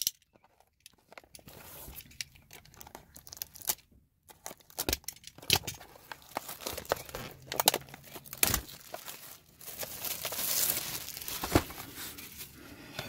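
A Keyforge Age of Ascension deck's wrapper is torn open and crinkled by hand, close and fairly quiet, with scattered crackles and rips that grow busier toward the end.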